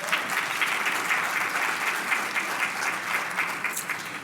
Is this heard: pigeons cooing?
no